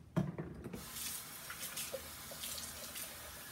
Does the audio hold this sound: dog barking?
no